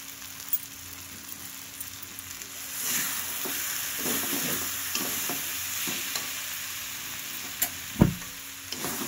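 Cabbage curry with spices being stirred in a pan, a soft steady sizzle under repeated scraping strokes of a spoon, with a louder clunk of utensil on pan near the end.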